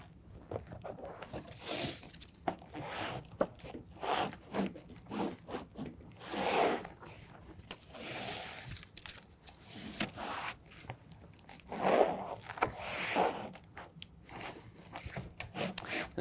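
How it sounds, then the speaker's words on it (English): A BedRug Impact bed liner is slowly peeled back and pressed into place in the bed of a 2018 Ford F-150, giving repeated soft ripping and rubbing bursts of moderate loudness. "we're just going to go very slowly and peel that back and stick it into place."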